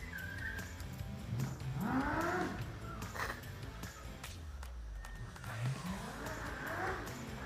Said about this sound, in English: Here comes car number 1, competitor number 31. Taking another run.